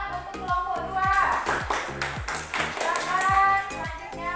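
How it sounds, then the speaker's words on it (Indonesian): Classroom applause for a presenting student group, a burst of hand claps mixed with children's voices and chatter running throughout. "Tepuk tangan untuk kelompok 2."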